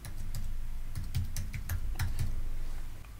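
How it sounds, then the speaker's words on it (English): Keystrokes on a computer keyboard clatter in quick, irregular bursts, close and fairly loud, while a label is entered in a Raspberry Pi Node-RED dashboard setup; no one speaks. "So for label, we'll type in LED intensity."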